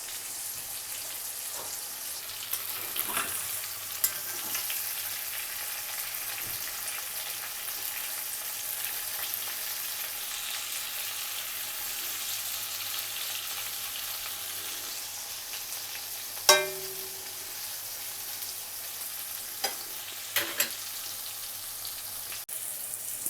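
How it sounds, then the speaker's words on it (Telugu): Ivy gourd masala curry fries in a pan on medium flame, a quiet steady sizzle and crackle with occasional sharp pops and utensil clinks, no voices. "మీడియం ఫ్లేమ్లో పెట్టి వేయిస్తున్నాను"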